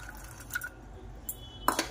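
Washed green peas dropping into a pot of water in a home kitchen, heard as a few soft, brief splashes and liquid plops spaced apart against quiet room tone.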